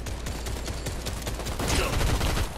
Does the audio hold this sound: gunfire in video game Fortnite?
yes